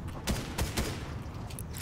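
Gunfire in the Fortnite battle royale game comes as a few quick, loud, muffled shots in a short burst under a steady background wash.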